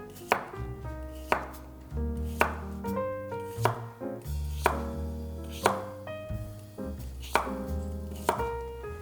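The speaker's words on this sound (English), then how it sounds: "we're just gonna slice this cucumber into rounds" A knife slicing a cucumber into rounds on a cutting board, about a dozen crisp, evenly spaced chops up close, with no talking.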